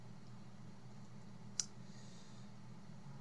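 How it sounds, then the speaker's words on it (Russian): A single sharp computer mouse click, faint and close, standing alone against a quiet steady background hum. "я кликну, допустим, на «Сообщение»."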